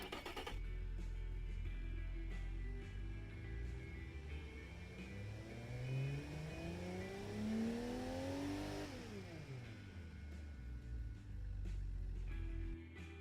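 Car with a straight-flow muffler revs hard, the exhaust climbing in pitch through a long rising sweep, peaking and then dropping back to a throaty idle, loud and close with no talking.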